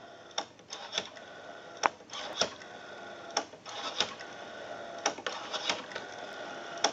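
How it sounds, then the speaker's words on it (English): A Western Electric 554 rotary wall telephone dial returning after being turned, a rapid run of crisp mechanical clicks and ticks repeating in several bursts, close and clear with no talking. "We have a nice smooth return on our rotary dial now."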